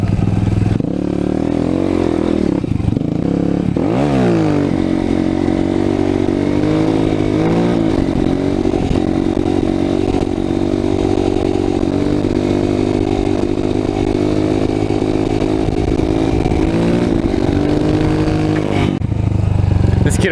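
A motorcycle engine revs loud and close throughout a hill climb, a steady droning roar with pitch rising and falling as the throttle is worked, and a brief sharp surge near the start.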